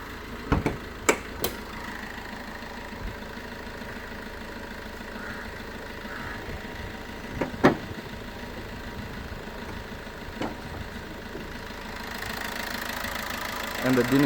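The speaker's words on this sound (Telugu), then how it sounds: "దీని బీటింగ్ కూడా ఒకసారి వినండి" A 2014 Maruti Ertiga VDI diesel engine idles with a steady low rumble under a few sharp clicks and knocks, and the hum grows slightly louder near the end.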